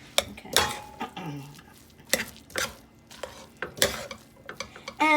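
A spoon stirs oil through Chinese fried rice, giving a run of close, uneven scraping and clinking strikes against the pan or bowl, with short bursts separated by brief pauses.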